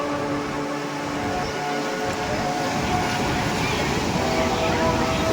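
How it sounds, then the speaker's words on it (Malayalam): Strong sea waves break at Kappil Beach at sunset, a loud, continuous roar of surf with heavier rushing swells building toward the end. "അപ്പോൾ അതിശക്തമായ തിരമാല അടിച്ചുകൊണ്ടിരിക്കുകയാണ്"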